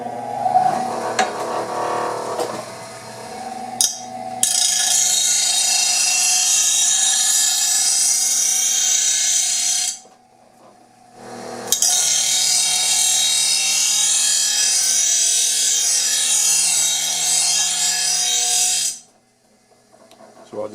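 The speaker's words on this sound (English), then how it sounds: "let's go ahead and do this on the bench grinder here" Bench grinder sharpening a lawn mower blade, a loud steady grinding hiss over the motor's hum, broken by two short pauses as the blade is lifted away, with a voice briefly at the start.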